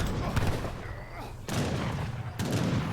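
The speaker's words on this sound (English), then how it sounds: "And heavy cannon volleys onto the Gurkha." Heavy cannon volleys in a strategy video game, several loud booming bursts of artillery fire in quick succession with rumbling decay, mixed with game noise.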